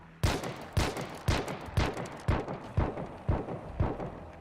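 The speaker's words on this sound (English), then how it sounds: "Firing a weapon causes audio distortion." Gunfire in a video game: about eight sharp, loud shots ring out at an even rhythm roughly half a second apart, each with a short echoing tail.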